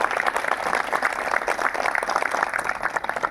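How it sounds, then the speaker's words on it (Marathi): A crowd claps steadily and densely at a Bhima Koregaon day flag-hoisting ceremony in Bhusawal, a continuous fairly loud patter of many hands with no talk over it. "टाळ्या वाजवायच्या सर्वांनी अगोदर"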